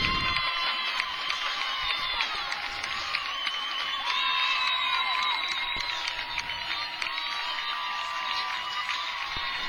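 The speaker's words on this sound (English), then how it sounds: "you can hear the crowd down below us getting behind the Bearcats, trying to rouse them up" A crowd at a high-school football game cheers on the Bearcats from the stands below, a steady dense roar of voices, whoops and yells heard from a distance.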